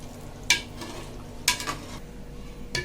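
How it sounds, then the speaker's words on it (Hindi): Mutton korma being served out of a cooking pot, with a few sharp scrapes and clinks of a spoon against metal spaced about a second apart over a quiet background. "ये देखिए अब हम डिश आउट कर रहे हैं।"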